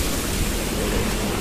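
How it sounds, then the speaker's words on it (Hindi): A large waterfall pours down from above at a landslide site on the Kedarnath route, a loud, dense and unbroken roar of rushing water filling the whole moment. "ऊपर से इतना बड़ा झरना भी आ रहा"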